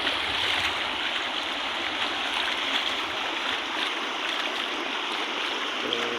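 Floodwater from heavy rain pours across a road beside drowned paddy fields, a steady broadband rushing that stays even and continuous throughout, fairly faint and with no voices.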